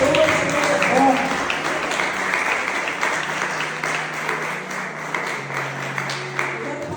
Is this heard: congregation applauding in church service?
yes